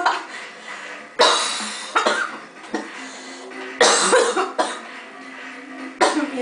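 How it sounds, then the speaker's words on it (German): Several harsh, loud coughs burst out in quick succession, each sharp onset trailing off into breathy noise, close to the listener. "Wieso gibt's Husten?"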